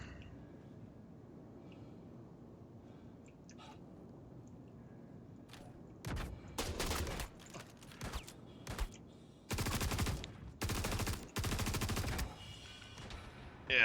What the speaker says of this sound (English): A lot of shotguns.